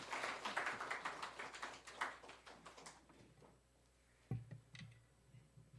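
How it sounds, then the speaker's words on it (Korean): A congregation at a Christmas Day worship service applauds to welcome a speaker, a quick burst of claps that fades after about three seconds, followed by a couple of isolated knocks in a quiet room. "우리 박수로 환영할까요?"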